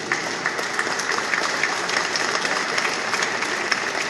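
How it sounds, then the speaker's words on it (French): A congregation applauds inside Saint-Omer cathedral during Sunday mass, steady even clapping from many hands that carries through the reverberant space at a constant level for the whole stretch. "On peut les applaudir."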